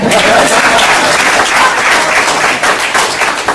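A room full of political supporters bursts into loud, sustained applause, dense clapping close by with a faint murmur of the crowd underneath.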